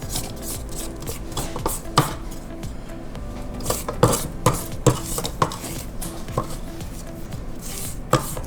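With the mixer stopped, a spatula scrapes the sides and bottom of a mixing bowl of gluten-free, dairy-free strawberry shortcake mix, making close, irregular scrapes and light knocks against the bowl with no talking.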